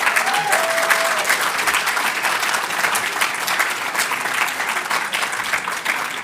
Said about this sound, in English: I think I would like to have a round of applause for Grace, who's been instrumental.